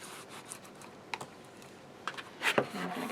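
Tool burnishing along the edge of a craft album cover gives quiet, irregular scraping strokes and soft taps, a few sharper rubbing bursts near the end, close and faint with no speech.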